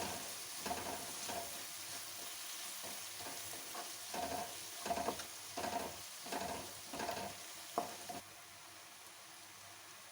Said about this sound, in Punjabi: ਥੋੜੀ ਦੇਰ ਲਈ ਮਸਾਲਿਆਂ ਨੂੰ ਚੰਗੀ ਤਰ੍ਹਾਂ ਭੁੰਨ ਲਾਂਗੇ